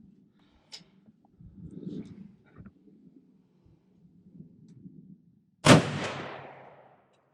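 A hunting rifle fires a single loud, sharp shot from a cold, dirty barrel outdoors, then the report rolls away in a long fading echo after some quiet shuffling.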